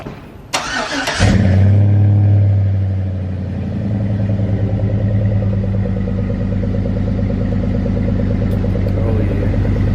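Straight-piped Dodge Charger R/T firing up with a sharp crank, then a loud burst of revving that drops into a deep, lumpy, close idle rumble lasting several seconds, with no talking.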